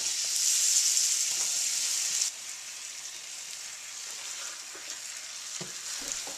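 Shiitake mushrooms sizzle in about 1.5 tablespoons of melted butter. The loud, bright hiss drops sharply after a couple of seconds to a softer, steady fry with a few faint stirring knocks.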